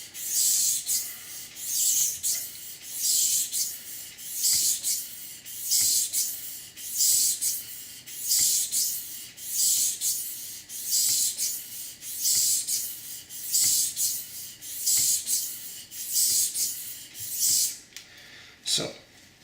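A knife is drawn across a sharpening stone in slow, regular strokes, about fifteen gritty, hissing passes heard up close and alone, each rising and fading before the next.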